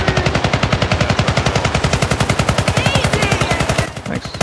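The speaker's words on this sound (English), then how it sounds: "Yesh, you're running around on my screen just constantly firing" Rapid automatic gunfire from the video game Syndicate rattles in a dense, even, loud stream of shots for about four seconds before breaking off briefly near the end.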